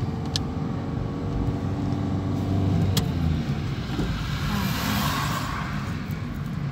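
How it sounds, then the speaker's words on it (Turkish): A car engine runs steadily through a driving lesson, a continuous mid-pitched hum from inside the vehicle with a couple of faint clicks, and no talk over it. "Böyle motor sesi değil mi?"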